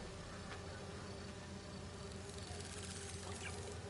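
Bees from a hive in the Spider-Man 2 video game make a steady, faint insect drone that holds evenly throughout without speech.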